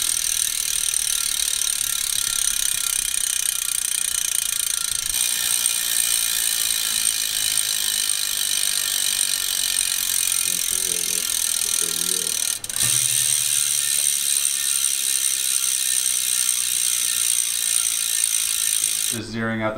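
Rear hub of a Prime carbon wheel fitted to a Specialized Sirrus, spun freely so its freewheel gives off a steady, fine, rapid ticking that continues at an even pace for the whole stretch, close up.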